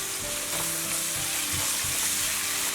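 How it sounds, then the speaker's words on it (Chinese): Diced pork stir-frying in hot oil with garlic, ginger and a spoon of chili bean paste, a steady close sizzle with spatula scrapes and stirring knocks throughout. "肉丁炒至变色，加入蒜姜爆香，再加1勺豆瓣酱"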